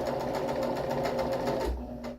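A sewing machine stitches uncut brush fringe onto a pillow, its needle running in a fast, steady rhythmic whir close by, then slowing and stopping near the end.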